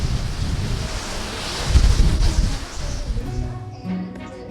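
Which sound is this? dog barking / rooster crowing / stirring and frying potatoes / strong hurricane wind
strong hurricane wind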